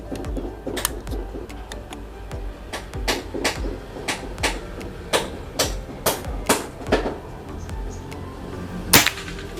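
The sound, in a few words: PCP air rifle shot, Bocap Pajero Gun Gen 5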